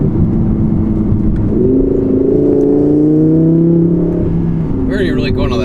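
An Audi R8 V10 Plus fitted with a Capristo exhaust drives along, its loud, steady engine drone holding throughout with pitch-shifting tones rising and falling midway, heard close and without talk.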